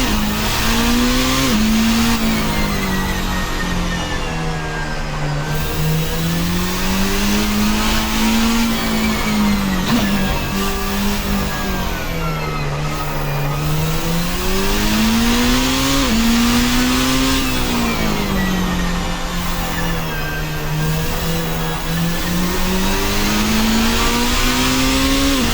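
A race car engine in a racing sim is held at full throttle, its steady loud drone climbing and dropping in pitch as it shifts through the gears with no pause. No one talks over it.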